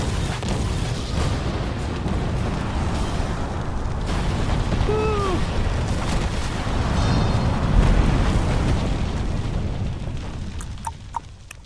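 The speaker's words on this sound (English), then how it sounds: "The bomb goes off." A bomb going off in the video game Resident Evil 3: a dense, continuous roaring blast rumble that sustains and swells, with faint voice-like sounds mixed in beneath.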